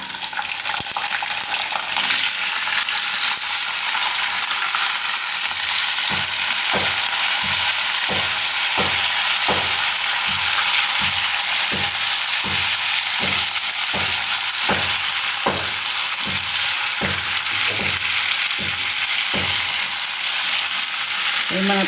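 Chopped sweet potatoes and peanuts fry loudly in hot oil for a Gujarati fasting dish, a dense, continuous crackling sizzle overlaid after the first few seconds by steady, rhythmic stirring scrapes about every half second, with no speech.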